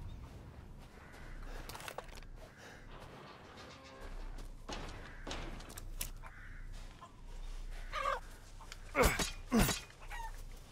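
Chickens clucking in the video game Resident Evil Village, scattered clucks and flutters over a low ambient hum, with a couple of sharp, louder squawks near the end.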